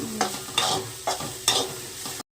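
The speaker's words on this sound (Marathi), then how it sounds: "तेल टाकून भाजायचं नंतर थोडंसं भाजल्यानंतर थोडं मीठ टाकायचं" Sweet corn kernels roasting in oil in a pan, crackling and sizzling steadily, with four louder stirring scrapes spaced about half a second apart, close and alone without talk.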